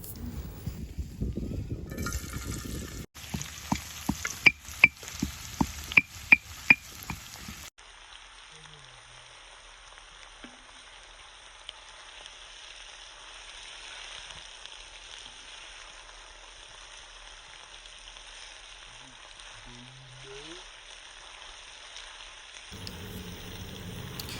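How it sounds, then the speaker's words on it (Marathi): Sliced onions fry in oil in a pan over an outdoor wood stove, making a rain-like crackling sizzle. Sharp clinks sound early on, then a quieter, steady sizzle continues under faint background noise. "त्यामध्ये तेल टाकून घेऊया त्याच्यानंतर त्यामध्ये तीन उभे चिरलेले कांदे आहेत ते या तेलामध्ये टाकून कांदा लालसर होईपर्यंत परतून घ्यायचा आहे"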